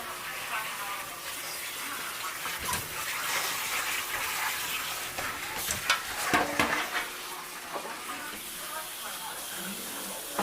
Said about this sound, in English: Pour them in a colander, start running water on them, and just get them good as scrub.